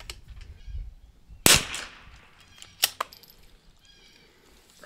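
A single sharp crack of a CZ 455 .22LR rifle firing at a bullseye target, followed a moment later by a smaller snap, in a quiet outdoor setting.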